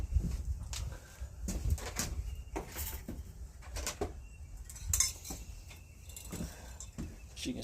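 A ceramic bonsai pot is shifted and set aside, making a string of close clinks, scrapes and knocks over several seconds, with faint birdsong in the background.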